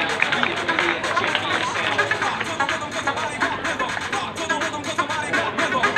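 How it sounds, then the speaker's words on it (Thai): Applause rises from a crowd at a fashion show of newspaper-paper outfits, cheering models and designers; dense, steady clapping and crowd noise fill the space with a busy hubbub throughout. "ขอเสียงปรบมือให้กับนางแบบและดีไซเนอร์ของเราครับ"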